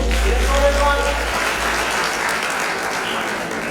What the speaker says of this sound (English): Well, start clapping.